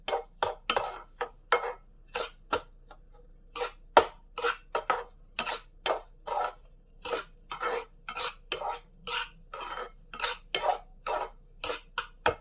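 Coconut being roasted and stirred in a pan for laddoo, a regular rhythm of close, crisp spoon scrapes and clinks against the pan with a faint sizzle beneath, no talk.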